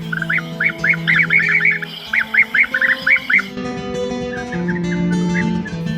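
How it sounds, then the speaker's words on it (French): Bursts of rolling, trilled calls of a European bee-eater repeat in quick clusters, fairly close, over a steady low hum and background noise. "Il est facile à repérer en vol grâce à ses sifflets roulés et rauques"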